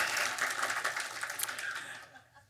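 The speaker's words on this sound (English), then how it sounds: "So let's please give these critical supporters another round of applause." Audience applause at a film screening, a broad wash of clapping that stays loud and steady before thinning out and fading toward the end.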